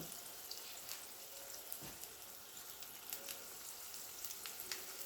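Egg rolls frying in oil on a stovetop set a little below medium heat, a faint, steady hiss and crackle with scattered soft pops.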